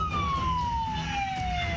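Fire engine siren from Pasuruan city fire trucks responding to a blaze, a steady descending wail heard clearly over traffic rumble, close and continuous.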